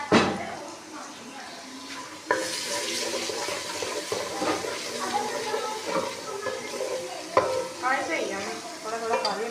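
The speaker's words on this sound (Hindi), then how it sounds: "साग नूं लाने लगे तड़का।" Onion and garlic tadka for saag sizzles and crackles in hot oil, with sharp bursts as ingredients hit the pan and stirring throughout; a person talks over the frying.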